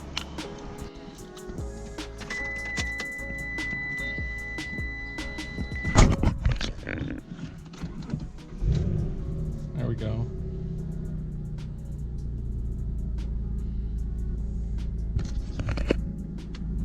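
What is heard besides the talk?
Mitsubishi 3000GT VR4 engine starting and idling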